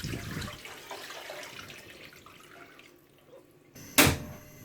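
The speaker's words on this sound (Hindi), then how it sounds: "अब इसमें मैं पानी ऐड करूँगी 6 गिलास।" Water is poured into a pan holding washed chicken in a home kitchen, a short splashing rush at the start that fades to quiet, followed by a sharp, loud clank near the end.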